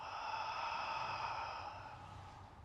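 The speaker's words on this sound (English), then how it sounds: "a deep exhale through the mouth" A long, soft breath pushed out through the mouth during a calm seated yoga session, steady and gently fading over a few seconds, close and quiet with no talking.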